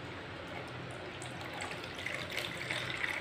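Liquid drained from salted mango pickle, a faint steady trickle and splash of water pouring out, growing slightly louder toward the end, close and alone without speech.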